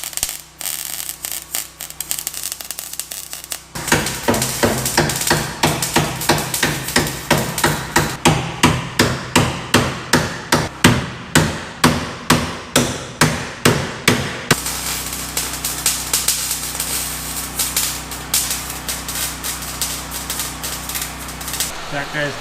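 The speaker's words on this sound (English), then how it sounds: "Once I get close, start hammering it." Hammer blows ring out on metal during a Nissan S13 tube front build, starting as a quick clatter and then settling into a steady run of about twenty sharp, evenly spaced, loud strikes close by, with a grinding shop background.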